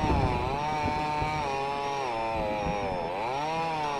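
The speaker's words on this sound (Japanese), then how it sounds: "いきなりチェーンソーで音でかなったな" A chainsaw in a horror video game drones continuously with rising and falling revs, steady and loud, with no talking.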